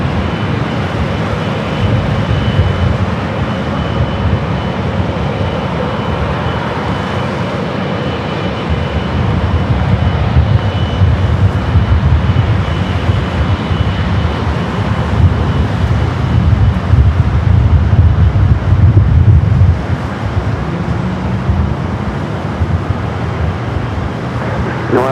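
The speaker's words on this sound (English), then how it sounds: "And Austrian up next for takeoff." A Vienna-bound Austrian Airlines Boeing 777-200ER takes off at Los Angeles International Airport, a steady, loud jet roar with wind rumble that swells toward the middle and holds for the whole stretch.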